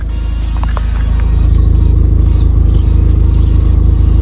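A Ford Fiesta ST engine idling loudly and steadily just after a cold start, a deep rumbling throb that settles into an even rhythm.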